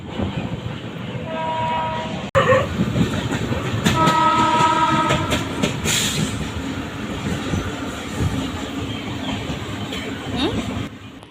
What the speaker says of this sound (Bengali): নির্ধারিত সময় থেকে 27 মিনিট লেটে ট্রেনটি চলছে